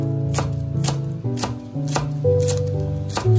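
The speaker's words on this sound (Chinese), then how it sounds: "准备一些葱白，直接把它切成葱花" Knife chopping scallion whites into small rounds on a board, a steady series of sharp, close chops about every half second over quiet background music.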